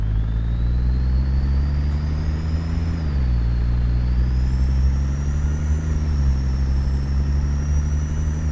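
Diesel-electric Edison truck engine in American Truck Simulator, a steady low hum with a whining electric tone that rises and dips slightly, continuous and close with no talking.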